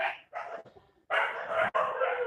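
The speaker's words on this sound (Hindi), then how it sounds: "कुत्ते बहुत भौंक रहे हैं" Dogs bark in quick bursts, some close together and some spaced apart, at a moderate distance and fairly quiet.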